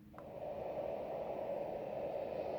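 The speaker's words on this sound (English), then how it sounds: "first up we've got white noise, or a fan sound I believe." A Marpac Rohm white noise machine plays a steady, even hiss, quiet and continuous from start to end, after a brief click as it comes on.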